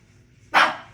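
A pet dog gives one short, sharp bark, loud and close, after a quiet moment with low background noise.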